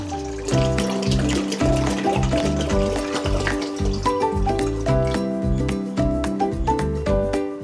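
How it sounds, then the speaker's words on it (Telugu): Cold tap water runs steadily into a large bowl in a home kitchen, making a continuous splashing, gurgling stream with a rising pitch as it fills, close and loud with no talking. "కోల్డ్ వాటర్ వేసేసుకుందామండి ఫస్ట్ మనము"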